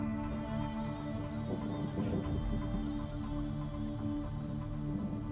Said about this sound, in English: I thought the rain was part of the end, but it is part of the playlist